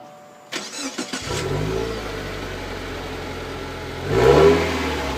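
A Subaru turbocharged boxer engine with stock exhaust fires up with a short burst of cranking, settles into a steady low idle, then revs up sharply before easing back.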